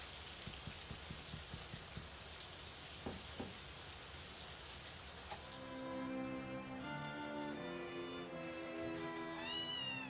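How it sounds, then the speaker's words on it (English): In Harvest Moon: A Wonderful Life, a pet cat gives several short meows. Soft rain hiss runs underneath, with tonal game music and chimes coming in halfway through. "So you can get a cat in this game."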